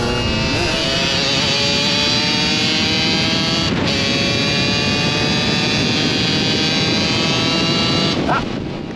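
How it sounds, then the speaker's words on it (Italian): An Aprilia RS 125 two-stroke with a full-power kit, RAVE valve and DLR track expansion exhaust screams loud and close at steady high revs, a raw buzzing drone held throughout with a brief dip near the end. "espansione da pista, in questo caso una DLR, grandissimo scarico, suono da paura"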